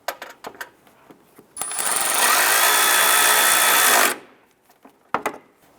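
A power tool snugs down a bolt under the headlamp of a 2011-2019 Ford Fiesta during strut and spring replacement: one steady, loud whirring burst of about two and a half seconds, framed by light clicks and handling noises.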